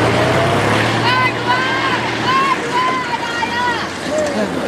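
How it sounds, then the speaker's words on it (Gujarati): A tractor engine's low, steady drone sits beneath overlapping conversation and cuts out about halfway through. "એ બા એ આમ થી અવાજ તો આવે હે ટ્રેક્ટર નો"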